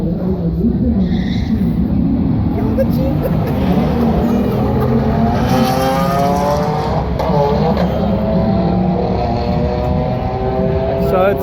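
Dodge SRT engine revving at a drag race, a loud sustained roar with rising and falling pitch, other engines and crowd talk mixed in.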